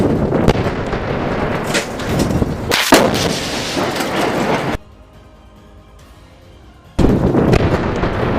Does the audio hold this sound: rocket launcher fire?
yes